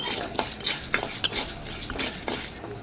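A spoon scrapes and clinks against a pan while chana dal fries for tomato chutney, making repeated close metallic taps and scrapes in an irregular rhythm over a quiet, faint sizzle.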